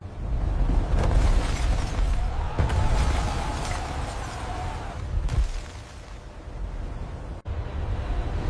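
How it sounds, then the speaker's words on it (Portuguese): A volcano erupts amid an earthquake: a deep, sustained rumbling roar with heavy low booms and surges, loud and continuous, briefly cut off by a sharp drop near the end. "O solo tremeu, os vulcões rugiram"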